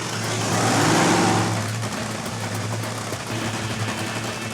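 A nitro-fuelled drag racing car engine roars loudly at Santa Pod Raceway qualifying, peaking early then settling into a sustained, rough, crackling drone.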